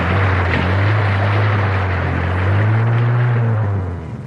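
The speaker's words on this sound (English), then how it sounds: "the water splash is a fine way of finding out if the engine's waterproof" A new car ploughs through a water splash test, giving a loud, steady low engine rumble with a broad wash of spray noise that holds throughout and eases slightly at the end; no voices.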